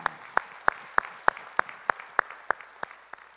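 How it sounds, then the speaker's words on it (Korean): A church congregation at a Sunday worship service claps in a steady, even rhythm of about eleven sharp claps, moderately close, with no talk over it. "우리 찬양을 받으신 주님께 영광의 박수 올리겠습니다."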